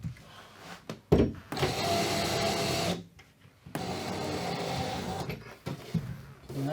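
A power screwdriver drives screws into a fixed flat TV wall bracket for a Samsung 8K QLED Q700T, giving two long, steady whirring bursts close by, separated by a short pause and a few clicks.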